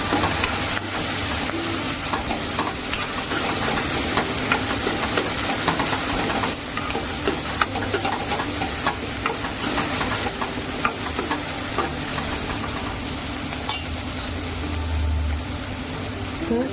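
Onion and tomato frying in a pan for a Marathi val birda (field bean) curry, a steady close sizzle with scraping stir strokes throughout, a faint hiss of steam above it.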